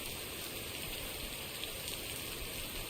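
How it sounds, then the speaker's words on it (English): Rain in a mail delivery video game falls as a steady, even hiss that fills the whole stretch without pause, fairly soft and with no voices over it. "the rain's not too loud either"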